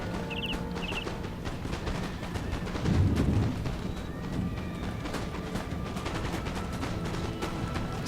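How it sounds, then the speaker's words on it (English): Scattered musket volleys crackle through a dense battlefield din of Cossack infantry in Empire: Total War, with horses and a louder burst around the middle, all steady and mid-distance with no talk. "Got a bit of a firefight going on."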